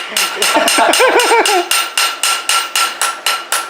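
Ringing blows of a small cross-peen hammer on a metal leaf over an anvil, loud and close. The strikes start with a few quick hits mixed with a brief voice-like whine, then fall into a steady, evenly spaced rhythm.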